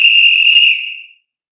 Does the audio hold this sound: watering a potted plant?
no